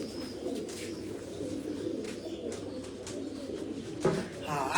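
Golden pigeon on a rooftop loft cooing in a low continuous murmur, with a brief louder bump near the end, moderately close.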